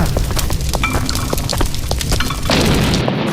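Dense battle effects for an army men stop motion scene, with repeated gunfire pops and booms over a constant rumbling background that swells toward the end, loud and close.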